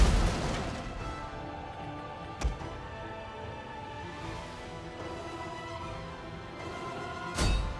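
Onager artillery in Total War: Rome 2 lets off two distant booming shots, one near the two-and-a-half-second mark and a louder one near the end, over a constant murmur of battlefield din.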